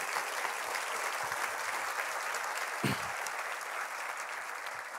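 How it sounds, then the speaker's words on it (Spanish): A church congregation claps together in sustained, even applause for the whole stretch, a dense wash of hands with one brief low thump partway through. "Dale un aplauso, por favor."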